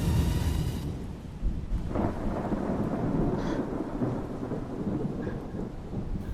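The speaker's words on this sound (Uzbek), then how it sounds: "Nega yomg'ir yog'ishi kerak?" Deep rolling thunder rumbles over a steady wash of heavy rain, the low booms swelling and fading throughout.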